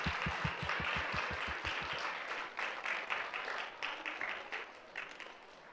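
An audience applauds to welcome new middle and high school students at a church graduation and orientation gathering, steady crowd clapping lasting several seconds after a brief low rhythmic thumping at the start.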